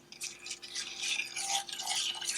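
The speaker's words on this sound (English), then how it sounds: "And all this time you're going to whisk this." Apple pie filling with cinnamon is whisked in a pot, a soft, quick swishing and light scraping that carries on continuously, close but faint.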